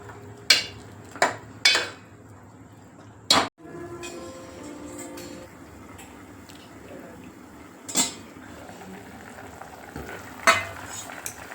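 Chicken cooks in a pan with onion and tomato, sizzling and bubbling under several sharp metallic clanks of a spoon against the vessel, some loud and close, others softer, with no talk.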